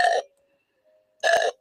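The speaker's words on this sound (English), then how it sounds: "You can change the sound to burps." A fart piano toy switched to burp mode lets out two short, loud, close belches separated by a brief near-silent gap.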